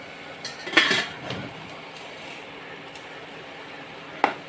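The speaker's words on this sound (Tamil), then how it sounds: "ஆயில் கம்மியாக ஊற்றி மூடி போட்டு மூடிடலாம்" A metal lid clanks onto a pan of vermicelli cooked with a little oil, giving one loud clatter early on and a second short clink near the end, with quiet between.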